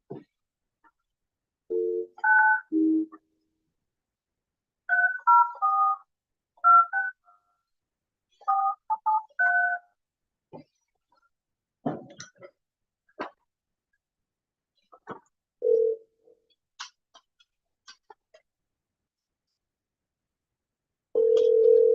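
Telephone keypad tones beep in short clustered bursts as a number is dialed during a town council meeting, followed by scattered clicks and a sustained dial-type tone at the end, with silence between.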